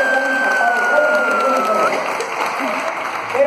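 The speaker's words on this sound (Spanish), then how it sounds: "Gracias por su aplauso y buenas tardes." An audience at a live show applauds in a dense, continuous burst while someone speaks over it.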